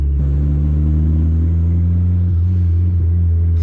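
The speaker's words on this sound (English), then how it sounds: "Sounds so cool. The lady was loving the turbo Civic." A turbocharged Honda Civic with a D16Y7 engine hums steadily on a street drive, a loud, close, low engine drone with a slight dip in pitch partway through, and no talking.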